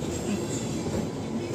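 A train rumbles by with a steady, close, low rolling clatter, heard on a morning rail journey from Secunderabad toward Vijayawada.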